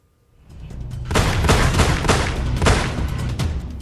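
Gunfire from criminals attacking a cattle-shed owner on a Deoghar street, picked up by a CCTV camera: a rising rumble, then a dense burst of several sharp, loud reports that keep crackling for a few seconds.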